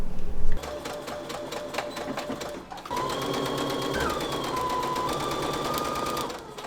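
Sewing machine running a seam at a 3/8-inch allowance, a steady rapid mechanical whir and needle chatter close by, with a brief pause partway through before stitching resumes, no voices heard.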